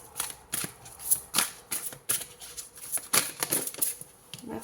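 Oracle cards are shuffled and drawn during a tarot-style reading, giving a steady run of papery riffling and soft flicking, close and moderately loud, with bursts of card slaps and no clear talk.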